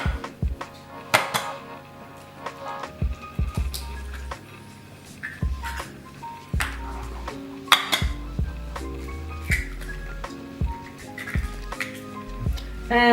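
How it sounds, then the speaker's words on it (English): Two eggs cracked and dropped into a mixing bowl of cookie dough for strawberry chocolate chip cookies, giving a run of close, sharp clinks and taps against the bowl with soft wet squishes between them and no talk. "now we're going to put our 2 eggs in here"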